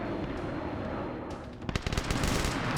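Surviving turrets fire on advancing armor in a Warhammer 40K video game: a low rumbling din gives way to loud, rapid bursts of gunfire in quick succession over the last second, with no talk.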